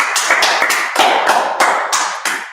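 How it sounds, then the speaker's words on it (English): A class closes out with group applause: loud, close, dense clapping from many hands with a few rhythmic surges, and no talking. "Clap it up."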